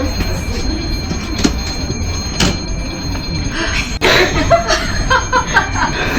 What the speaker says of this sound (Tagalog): Ito na yung last train namin.